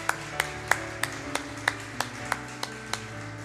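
A church congregation claps to bless a newly registered member: about a dozen crisp, evenly spaced claps in a steady beat, with sustained musical tones underneath.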